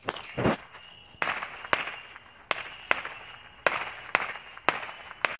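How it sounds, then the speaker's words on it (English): Fireworks popping off nearby on New Year's night, a string of sharp cracks and bangs arriving about every half second with faint crackle between them, heard from indoors with no talk. "these fireworks have to be close."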